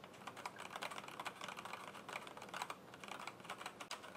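Typing on an ErgoDox EZ split keyboard fitted with Kailh Black switches: a close, steady, rapid patter of keystrokes that runs without pause and is heard alone.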